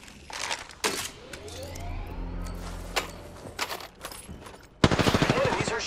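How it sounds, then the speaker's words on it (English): Enemy automatic gunfire in the Apex Legends battle royale shooter, a sustained rattle of rapid shots with a louder close burst near the end, mixed with game effects. "Enemies are shooting at me."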